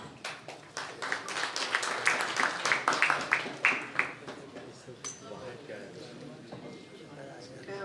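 A mushaira audience breaks into warm applause to welcome a poetess: a burst of sharp, overlapping claps swells for about four seconds, then thins and fades under murmuring and a voice in the hall.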